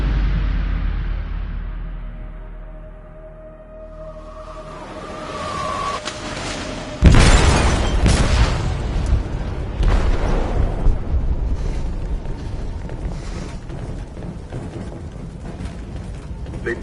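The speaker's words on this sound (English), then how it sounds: "They detonated an explosive in the hold." An explosive detonates in the hold of a ship in the video game Detroit: Become Human. A low rumbling hum and creaking metal build to a sudden loud boom, followed by sustained crashing, rattling debris and groaning structure.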